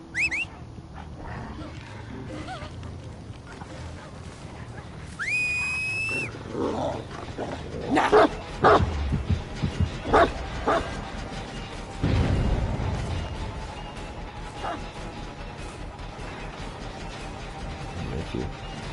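Growls and barks from the killer's dog in Dead by Daylight ring out in bursts across a busy game mix with tonal effects and a steady hum, loudest around the middle and fading toward the end.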